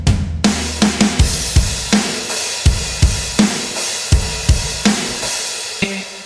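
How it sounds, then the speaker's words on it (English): Full processed drum kit, a punchy rock groove with steady kick and snare hits at an even mid tempo and bright cymbals on top, loud and upfront with no other instruments. "So the whole drum sound kind of sounds like this."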